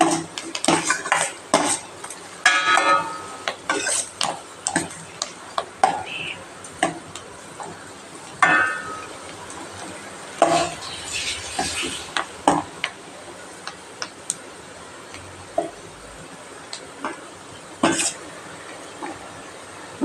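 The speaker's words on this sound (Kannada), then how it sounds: "ಈಗ ನೀರುಳ್ಳಿ ಫ್ರೈ ಆಗ್ತಾ ಬಂತು ಈಗ ಕರಿಬೇವು ಸೊಪ್ಪು ಹಾಕಬೇಕು" Onions and curry leaves fry in a pan for soya bean sukka as a spatula stirs, giving a steady run of close metallic clatters and scrapes over a faint background sizzle for about twenty seconds.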